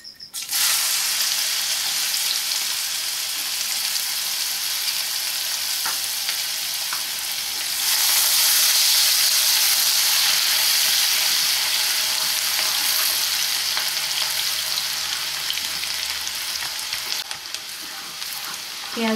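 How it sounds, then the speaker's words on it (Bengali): Cumin seeds and chopped onion frying in hot oil for palak paneer kofta, a loud, steady close-up hiss that swells louder partway through as the onion goes in, with faint stirring and no speech. "জিরেটা মোটামুটি ভাজা হয়ে এলে আমি এর সাথে অ্যাড করব পেঁয়াজ কুচি।"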